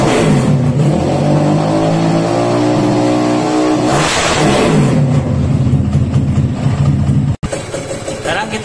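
Four-stroke motorcycle engine revving near a digital tachometer, rising and falling through a couple of throttle blips before settling to a steady idle, loud and close with a voice talking briefly over it.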